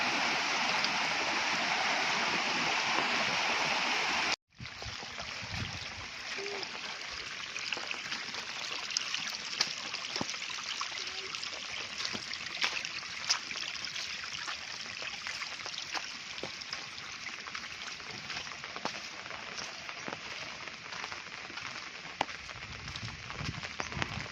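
Floodwater from a river rushes steadily through a village in a broad, constant wash of noise, briefly cut off once early, then continuing unbroken at moderate loudness.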